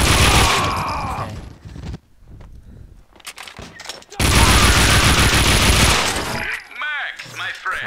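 Dual Beretta pistols firing in Max Payne 2, rapid volleys of loud shots in two bursts separated by a quieter stretch, with game voices briefly heard.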